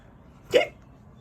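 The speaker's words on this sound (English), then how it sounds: "Did that get rid of the hiccups?" A child's single hiccup, short and sharp, stands alone against quiet background noise.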